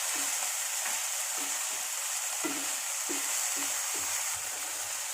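Onion and tomato cook down in a pan with a continuous soft sizzle, while a spoon scrapes and stirs in a steady rhythm of repeated strokes, close up and with no talking.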